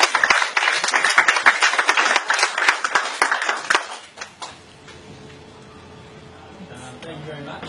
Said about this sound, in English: Big round of applause for Daniel.